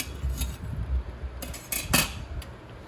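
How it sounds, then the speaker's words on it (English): A metal spoon scrapes out the inside of a carnival squash, making a few close, sharp clinks and scraping strokes against a quiet background. "my metal spoon, because that works best for scraping, better than the wooden ones"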